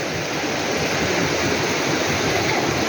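Hot spring water at Anhawan, Southern Leyte, flows and splashes in a steady, dense rushing wash, close and continuous, with no voices over it.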